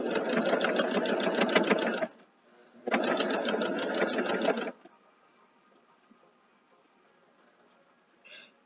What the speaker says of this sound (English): I'm going to do a back stitch,